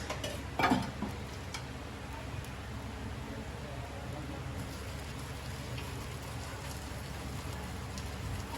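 Coriander, cumin and chili sizzling in hot oil, a steady crackling hiss close by, with a brief louder splatter near the start and then an even simmering fry.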